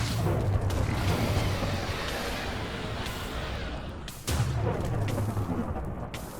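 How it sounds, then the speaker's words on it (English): Fire-blast explosions in the Avatar: Master of Elements video game, two heavy rumbling booms about four seconds apart, each followed by mechanical creaking and clatter, loud and close. "Fire shot. Explosion."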